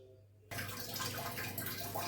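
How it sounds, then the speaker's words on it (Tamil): Water pours into a cooking pot for red poha porridge, a steady broadband splash that starts abruptly about half a second in and runs loud and close to the end, with no talk. "தேவையான அளவு தண்ணி ஊற்றிக்குவோம்."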